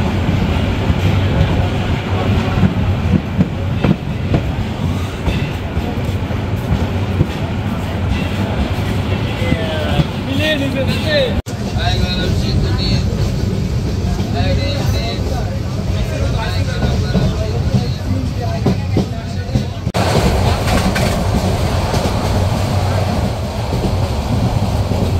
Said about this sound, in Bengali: নির্ধারিত সময়ের যাত্রাবিরতি দিয়ে ট্রেনটি ছেড়ে যাচ্ছে কুমিল্লা রেলওয়ে স্টেশন।